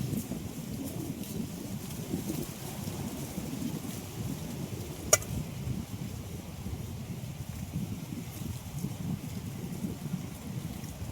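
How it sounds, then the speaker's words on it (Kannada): Wind blows steadily outdoors, a low buffeting rumble against the microphone that continues throughout with one brief sharp click near the middle. "ನೋಡ್ರಿ ಇದನ್ನ ಗಾಳಿ"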